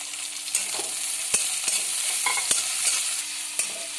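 Onions frying until golden brown with bay leaves, cinnamon, cloves and cardamom in hot oil for an Odia crab curry, a dense close sizzle with periodic spatula scrapes and taps, no speech.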